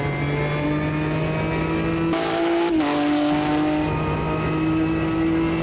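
Tires scrubbing as an understeering car pushes wide in a racing sim game, a steady engine drone with a harsh broadband rasp swelling briefly mid-clip, no voices.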